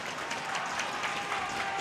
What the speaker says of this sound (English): And the crowd here at KCIC, Gabe, is loving every second of it.